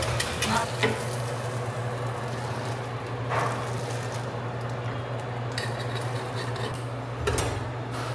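Breakfast sizzles and fries in a pan, with a continuous crackling hiss punctuated by scraping stirs and occasional clinks of a utensil against cookware, close and steady with no talking.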